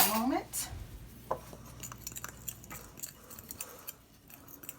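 Seasoned chicken being mixed by hand in a bowl, soft wet squelching and light scraping in short irregular bursts, close and quiet, with a brief voice at the start.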